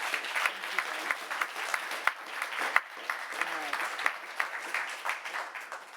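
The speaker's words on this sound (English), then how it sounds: "So may we have a round of applause." A conference audience claps in warm, continuous applause at a moderate distance, a steady patter of many hands lasting several seconds.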